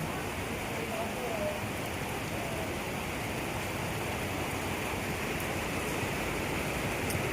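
Rain falls steadily in an even, unbroken hiss of drops that stays at the same level throughout.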